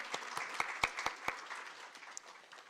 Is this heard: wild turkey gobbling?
no